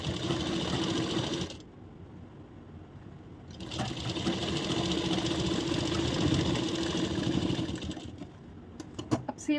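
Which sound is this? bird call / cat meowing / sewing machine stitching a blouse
sewing machine stitching a blouse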